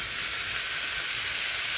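Ground meat, chopped onion and cubed poblano peppers browning in a pan for a Frito pie casserole, giving a steady, even sizzle and hiss that holds constant throughout, close and alone with no talking.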